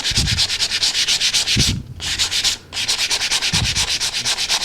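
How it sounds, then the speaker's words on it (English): Rapid back-and-forth sanding strokes spot-sanding the finish on an ES-335-style electric guitar, rhythmic and close, in two steady bursts separated by a brief pause. "just spot sanding those areas"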